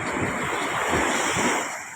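Sea waves washing in on a coast near a river mouth, a continuous broad surf wash mixed with wind buffeting the microphone and easing off at the end.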